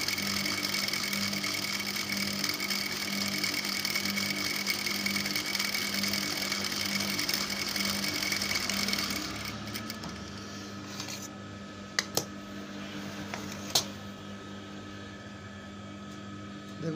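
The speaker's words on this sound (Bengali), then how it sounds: "আমি একইভাবে সেলাই দিয়ে নেব।" Sewing machine stitching a child's palazzo skirt, a loud, continuous close-up motor hum for about nine seconds before it stops, leaving a quieter background with a couple of sharp clicks.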